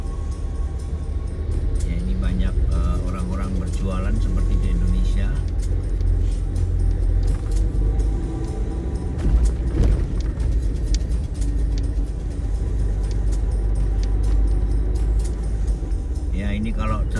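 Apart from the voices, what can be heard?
traffic jam in a busy street market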